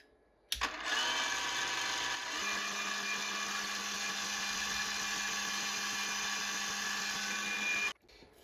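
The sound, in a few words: drilling a hole for threading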